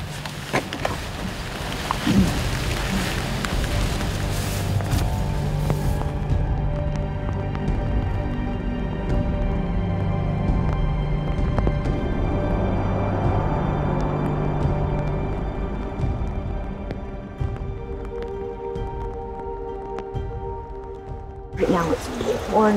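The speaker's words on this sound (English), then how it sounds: "Right now it's pouring down rain." Rain pours down heavily in a dense, steady wash during a big storm, with rustling movement and brief louder bursts at the start and end.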